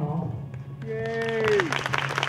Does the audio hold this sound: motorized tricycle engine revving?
no